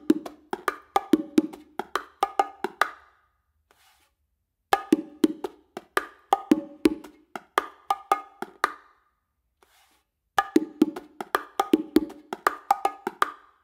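A funky groove played on bongo: three rhythmic phrases of quick, crisp slaps and tones, close and fairly loud, separated by short silent pauses, with no talk.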